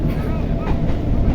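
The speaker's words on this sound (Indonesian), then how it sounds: "Urang aya di kereta." Inside a moving passenger train, a loud, steady low rumble of the carriage fills the space continuously, with no distinct clacks standing out.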